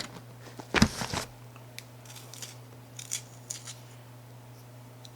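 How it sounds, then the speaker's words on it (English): An eye pencil being sharpened by hand, a short burst of scraping crunches near the start, followed by faint scattered ticks over a steady low hum. "I'm trying to find my eye pencil because I want to sharpen it"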